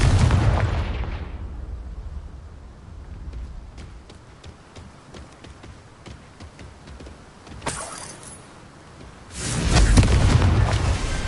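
A Confringo fiery blast spell explodes in Hogwarts Legacy with a loud opening boom, then a low rumbling spell ambience with sharp crackles, a brief burst near eight seconds, and a second heavy blast roaring at the end.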